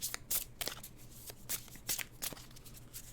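Tarot cards being shuffled by hand in a quiet room, a run of crisp riffling bursts and soft flicks with short pauses between, close and fairly quiet.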